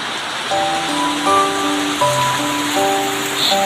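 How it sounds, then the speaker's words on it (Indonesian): Steady heavy rain in Sorong, Indonesia, hisses continuously while a simple tinkling melody plays over it, the rainfall even and unbroken from start to finish. "sambil menunggu hujan reda."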